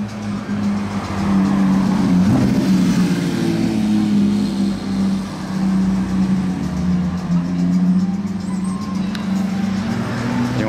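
A sports car with an aftermarket exhaust drives past, its engine a loud, sustained drone that swells and holds through the pass, close to the listener, with a voice heard in the background.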